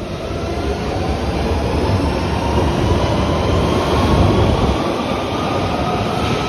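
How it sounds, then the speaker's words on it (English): A London Underground Central line train rumbles along steadily, a loud, continuous roar of wheels on rails with a constant low drone throughout. "This is a central line train to Newbury Park."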